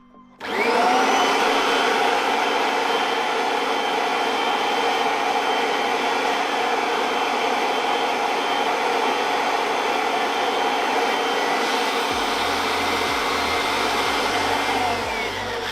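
A Kirby vacuum cleaner fitted with a stretchable hose starts up and runs loud and steady for about fifteen seconds, a continuous close whine with no talking over it.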